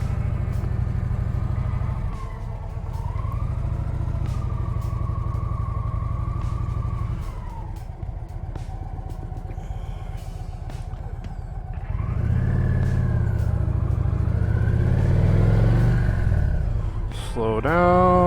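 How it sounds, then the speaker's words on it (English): A 750 lb motorcycle on a skills test course accelerates, slows through a turn, and comes to a stop, its engine droning steadily and rising in pitch on the closing acceleration, fairly loud and near throughout. "Slow down, make my turn, come through the stop box, accelerate, get the bike stopped."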